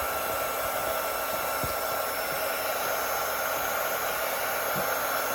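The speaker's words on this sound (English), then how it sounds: "I'm just going to turn my heat gun on" A heat gun runs continuously with a steady, even rushing whir of hot air, moderately loud and close, with a couple of faint taps underneath and no talking, while it warms clear vinyl for a sewn clutch bag.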